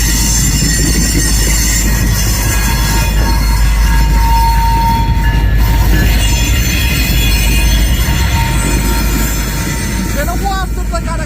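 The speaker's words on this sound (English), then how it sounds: "Been a while since I got a Canadian Pacific locomotive here in St. Paul, and this locomotive is stopping heading to St. Paul." A Canadian Pacific freight train with its leading locomotive slowing to a stop in St. Paul, a loud, close, continuous rail rumble with high wheel squeals ringing on and off throughout.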